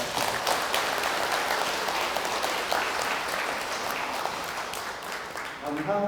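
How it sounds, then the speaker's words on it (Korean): Sustained audience applause fills a workshop hall as a foundation chairman is welcomed to the stage, dense and steady throughout with a voice emerging near the end. "큰 박수로 환영해 부탁드리겠습니다"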